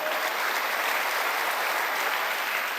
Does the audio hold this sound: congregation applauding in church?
yes